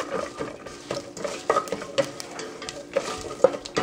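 Close sizzling and crackling of cashews frying in oil, with scattered sharp pops and light stirring scrapes in a pan.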